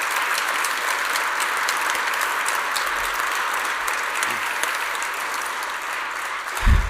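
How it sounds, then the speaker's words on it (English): Steady applause rises from the audience at a sports induction ceremony, even and moderately loud throughout, with a brief thump near the end. "a big round of applause for everybody that's been in these teams"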